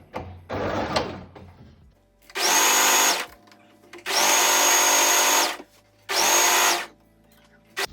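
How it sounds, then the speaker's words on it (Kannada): An electric sewing machine hemming the bottom of a princess-cut blouse, running in three loud close bursts of rapid whirring stitches separated by short pauses, with a softer handling rustle before the first run. "ಇವಾಗ ಬಾಟಮ್ ಕೂಡ ಹಾಫ್ ಇಂಚಿಗೆ ಸ್ಟಿಚ್ ಮಾಡ್ಕೊತಿದ್ದೀನಿ."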